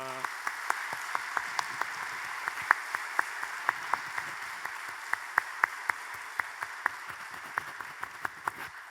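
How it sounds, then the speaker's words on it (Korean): Congregation at a special dawn prayer service giving applause to God, a fairly thin room of clapping with distinct sharp individual claps standing out over a soft continuous patter, steady throughout. "하나님께 영광의 박수 올려드립시다"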